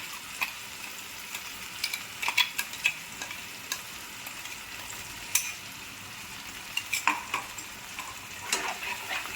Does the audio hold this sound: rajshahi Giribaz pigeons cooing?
no